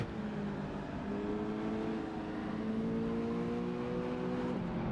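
Race car engines drone and rev in the Assetto Corsa Evoluzione racing game, a continuous loud engine tone with pitch shifting slowly as the pack runs together.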